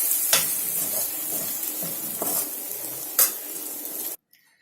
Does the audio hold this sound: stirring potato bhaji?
yes